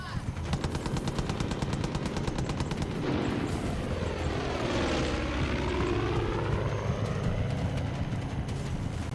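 In the Far Cry 5 video game, an aircraft strafes with rapid machine-gun fire under a loud propeller drone. The fast rattling bursts run through the first few seconds, then the engine roar sweeps past, with no talk.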